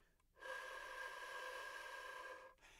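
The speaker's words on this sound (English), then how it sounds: "So if you take that flute note out, and you'll be able to just hear the residual tone." A flute played with an extended technique gives only its residual air tone, with no note sounding: a soft, breathy, steady hiss with a faint pitched edge, held for about two seconds in quiet surroundings.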